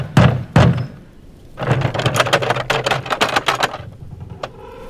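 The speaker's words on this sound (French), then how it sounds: "retint son souffle et frappa à leur porte" Knuckles rap on a door: two loud, close thumps, a short pause, then a quicker run of sharp knocks, with no voices.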